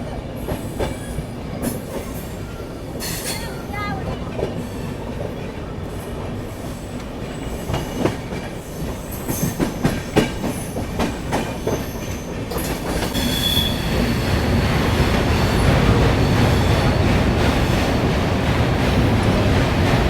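Farakka Express passenger train rolling on rails between Delhi and Malda, a steady loud rumble with rhythmic wheel clatter and occasional squeals, growing denser and louder toward the end with no talk.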